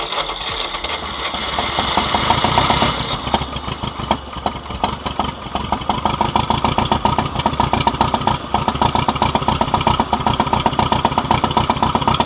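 A John Deere 1010W tractor with fuel problems and a bad starter, its engine cranking and catching, then settling into a loud, close, rhythmic running chug with steady pulsing beats.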